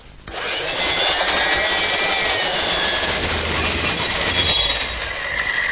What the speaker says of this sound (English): Best way to do that is with the belt sander.